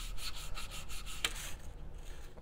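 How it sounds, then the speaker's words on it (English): Sandpaper rubbing the edges of a metal split-shank ring to remove burrs, a steady, soft rhythmic scraping close to the microphone, strokes repeating about every fifth of a second with no talking. "I'm gonna drag on some sandpaper to take off any burrs on the edges."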